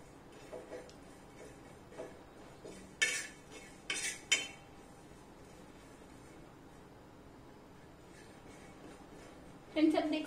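Masala strips being stirred and roasted in a pan: scattered clinks and scrapes of a utensil against the metal, a couple of louder bursts and a final clatter, with quiet gaps between.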